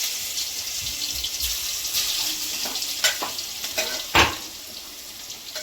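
Cumin, bay leaf and ginger-garlic paste sizzle steadily in hot oil for dal fry, a continuous crackling hiss punctuated by a few sharper spits and stirring clicks, close and fairly loud with no talking.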